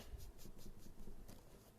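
A pencil shades and darkens a small heart drawing in a charcoal-like style, producing soft, rapid scratchy strokes in a steady back-and-forth rhythm, faint and close.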